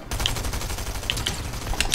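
Automatic weapon fire from a competitive Fortnite trios match sprays in a rapid, continuous stream of evenly spaced shots, loud and close, with a few sharper impact clicks layered on top.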